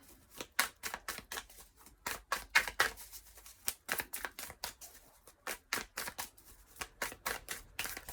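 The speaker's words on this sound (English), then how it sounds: "I'm going to be cutting the deck rather than taking jumpers" A tarot deck is shuffled and cut, giving a long run of quick, crisp card riffles and slaps in an uneven rhythm, close by and fairly quiet.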